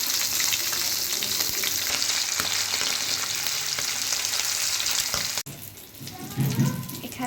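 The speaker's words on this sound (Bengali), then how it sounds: "ইলিশ মাছ ভেজে নিচ্ছি।" Hilsa fish fries in hot oil with a loud, steady sizzle for about five seconds, then the sound cuts off abruptly and softer kitchen clatter follows.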